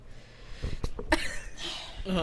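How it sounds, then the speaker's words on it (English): A short, muffled sneeze bursts out close by, followed by quiet movement and a faint voice. "I had to sneeze"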